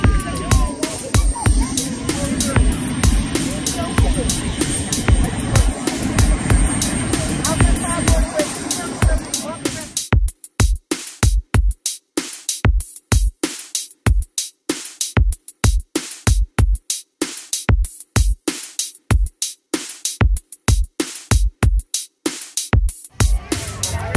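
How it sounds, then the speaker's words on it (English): Broadband engine roar with crowd chatter nearby at an outdoor touch-a-truck event, then steady low thumps from a sheriff's department helicopter rotor beginning to turn for takeoff, spaced evenly and close by. "We got the um, helicopter out here. It's about to take off"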